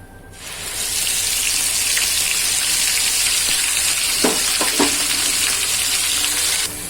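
Gravy poured into hot oil with crackled cumin in a pan for a ridge gourd and sev curry, bursting into a loud, steady sizzle that runs for several seconds, with a couple of brief scraping stirs.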